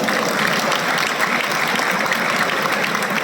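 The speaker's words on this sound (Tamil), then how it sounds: "சிங்க பெண்ணுக்கு ஒரு பெரிய கைத்தட்டல் கொடுக்கலாம்" An audience at the KPT College annual day in Perundurai breaks into steady, loud applause with many hands clapping together. It holds at full strength throughout, with no speech on top.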